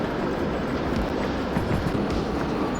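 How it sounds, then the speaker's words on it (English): Goods train of 384 tonnes in the Derail Valley game, a steady low rumbling rail roll with faint wheel clatter, continuous and close, no voices. "Oh god, hang on, I can hear the train slowing down."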